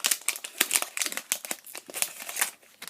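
Crisp crinkling and tearing of a thin foil Pokémon XY12 booster pack wrapper, a rapid series of rustles close by with no talking.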